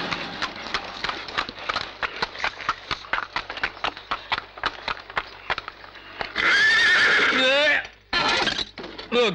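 A mare neighs loudly in a high, wavering whinny, broken into two bursts, after a stretch of rhythmic clip-clop hoofbeats; the scene comes from an Indian action drama film.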